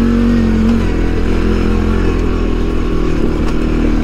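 Steady, loud drone of a CFMOTO CFORCE 400 ATV engine running at moderate revs while it turns, a constant close hum with slight rattle and no talk.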